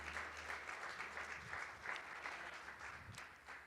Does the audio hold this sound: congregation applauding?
yes